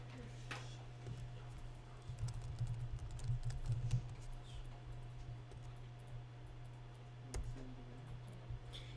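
Computer keyboard typing while entering text into a PowerPoint text box, a faint patter of key clicks over a steady low hum, busiest in the middle of the stretch.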